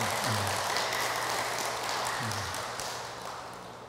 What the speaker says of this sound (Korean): 대구 법왕사 실상 스님께 큰 박수 한번 부탁드립니다